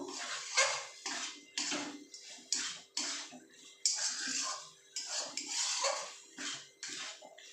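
Two ridge gourds are stirred into mung dal in a pot, a series of rhythmic wet scraping and sloshing strokes close by, each a short burst with brief gaps between.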